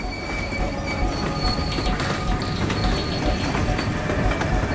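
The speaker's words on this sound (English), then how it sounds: "Zigzag rails facilitate the train's journey over the steep terrain." A train climbing a Himalayan mountain railroad over zigzag rails on steep terrain, with a loud, steady rumble of wheels and carriages and high squealing of wheels on the rails, continuous throughout.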